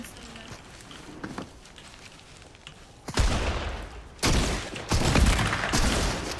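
Gunfire from a shooter video game, arriving in several loud, dense bursts of rapid shots in the latter half, after a quieter stretch of faint clicks and movement sounds.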